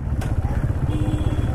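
KTM Duke 390 BS4 motorcycle exhaust note, a close, steady low rumble of idling or revving engine pulses with some clatter, filling the whole short span.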